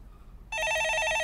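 A telephone starts ringing abruptly partway through, a loud, steady electronic trill that continues to the end after a quiet start.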